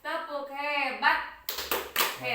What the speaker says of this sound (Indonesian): Urang tepuk hebat heula kanggo ibu-ibu. Tepuk hebat.